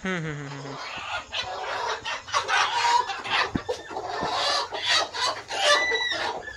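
Several chickens clucking and squawking close by in a busy, overlapping chorus, with a rooster-like call at the start.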